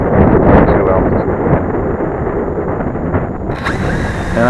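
Wind buffets the microphone near a flying Cheerson CX20 quadcopter drone on a windy day, a loud continuous rumbling roar with a higher whine appearing near the end.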